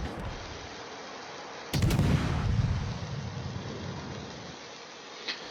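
A heavy naval gun salvo from a ship in a naval combat video game, playing a French large destroyer, Mogador: one loud booming report near the middle, then a rumbling tail and a faint second crack near the end.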